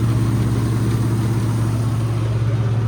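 A John Deere 5210 4x4 tractor engine runs with a steady, loud low drone and a constant hum, close by and without speech.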